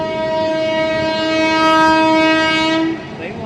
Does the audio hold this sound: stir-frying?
no